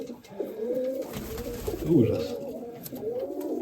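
Domestic pigeons of the Mykolaiv breed coo repeatedly nearby in a loft in Kamianske, their low rolling calls overlapping throughout, with someone briefly speaking over them.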